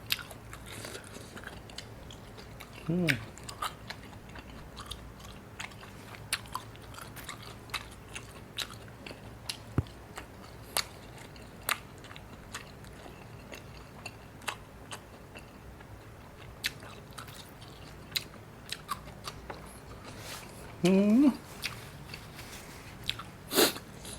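Someone eats raw beef soi ju with raw liver and tripe dipped in bitter jaew, making close, sporadic wet chewing and biting clicks over a quiet background, with a couple of brief vocal sounds.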